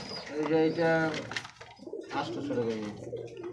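Large pigeons coo at a pigeon market in a few low, rolling phrases, close and clear, with someone talking nearby.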